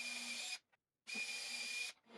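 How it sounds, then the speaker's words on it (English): A power drill with a small-diameter bit bores through a wooden sled runner and base, two steady whining bursts separated by a short pause, close and fairly quiet, with no voices. "use a small diameter bit to drill through the runner and all the way through the base"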